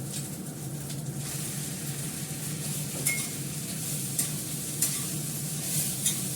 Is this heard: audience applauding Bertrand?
no